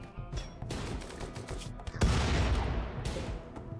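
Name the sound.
gunfire in a shootout, from the video game RimWorld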